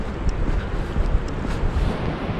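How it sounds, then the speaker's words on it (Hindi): A mountain waterfall in Lachung valley in North Sikkim roars as a steady broadband rush, dense and constant throughout, with gusty rumble like wind over the microphone. "ये झरना नीचे से गिर रहा है पहले।"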